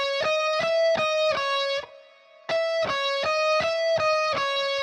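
A distorted electric guitar plays a descending shred pattern from the high strings to the low ones: crisp, evenly spaced picked notes in two quick phrases separated by a short pause, clear and close with no talk.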